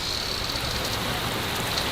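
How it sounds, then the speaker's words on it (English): Heavy rain pours steadily outside during a storm, a dense, even hiss filling the scene at close range with no pauses and no voices. "We are getting really heavy rain."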